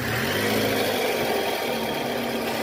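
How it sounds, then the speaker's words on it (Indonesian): A 2008 Toyota Camry 2.4 V with a 2AZ-FE engine runs after a tensioner repair, following a broken balancer shaft. It gives a continuous, loud, close-up idle with a rough growl and whir, and no talking. "Ya, mesin udah hidup."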